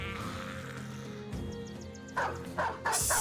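A dog barks in the video game Battle Brothers, a few short yips and bow-wows rising out of a steady game soundscape of music and ambience, loudest near the end.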